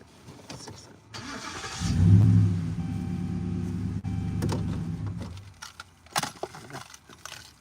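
A truck engine cranks and catches, settling into a steady loud idle for a few seconds before cutting off, with a car door or window sounds and brief knocks after.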